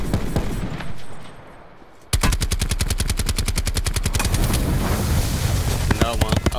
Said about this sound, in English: Somebody else is shooting it up.